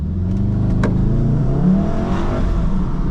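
A 2018 VW Golf R accelerates hard from low speed, its engine note climbing loud and steady through the first gear with a continuous close-up drone and no talking.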